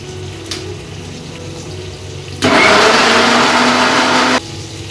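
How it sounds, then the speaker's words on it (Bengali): A kitchen blender grinds tomato, onion, garlic and chili into a paste, a loud whirring burst of about two seconds that starts abruptly and cuts off, with quieter room noise before and after. "আমি মশলাটা মানে পেস্ট করে নিই। এখানে টমেটো, একটু পেঁয়াজ, একটু রসুন আর লঙ্কা দেওয়া হয়েছে।"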